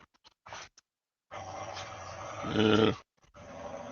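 Dogs growling and grunting as they tussle over a toy, a rough, throaty snarl swelling louder near the end before breaking off, with a brief spoken word at the start.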